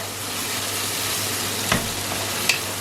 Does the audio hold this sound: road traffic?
no